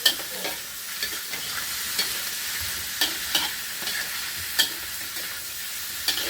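Eel and chili being stir-fried in a hot pan: a steady, loud sizzle with repeated scraping and clanking strokes of the spatula at irregular intervals, close up and without talk.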